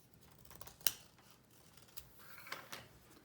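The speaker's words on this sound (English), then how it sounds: "you take your scissors and you cut off the little bits" Scissors snip off small bits of paper during a craft session, giving a few faint, crisp cutting clicks close by in a quiet room.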